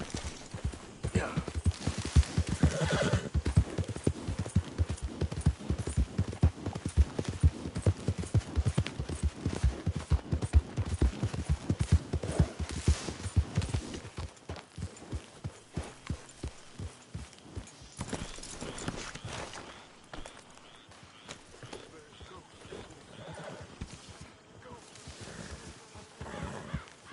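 Horse hooves clip-clop at a brisk, steady rhythm while riding in Red Dead Redemption 2, loud and close at first, then softer and sparser toward the end.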